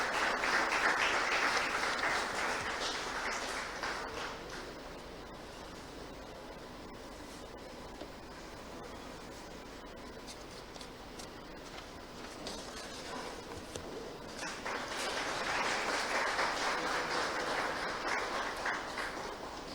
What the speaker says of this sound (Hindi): तालियां बजती रहेंगी तो ज्यादा अच्छा लगेगा सर